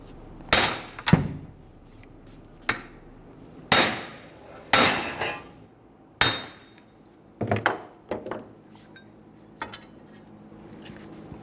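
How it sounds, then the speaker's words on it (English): Sharp metallic hammer strikes drive a wheel hub out of a 2011-2014 Hyundai Sonata, using a cone-tipped hammer struck by a second hammer; about eight loud, separate ringing blows with quiet gaps between them. "Using a coned hammer, I'm going to put it in the middle, and using a second hammer,"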